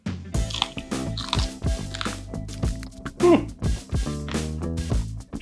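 Bites and chewing on a crunchy, juicy Aji Norteno chili pepper from northern Peru, with several close wet crunches and squishy chewing in an uneven rhythm, loud and near to the mic.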